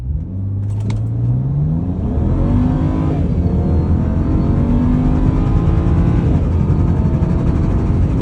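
A 2009 BMW E90 335i with a transmission tune pulls hard through a 0 to 60 run, its engine note loud and rising steadily through the gears, heard from inside with no talking.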